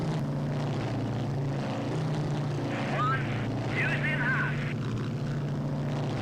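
Piston engines of a B-26K Counter Invader in the Strike Fighters 2 Vietnam flight game, a constant droning propeller hum at steady volume, with a voice talking over it.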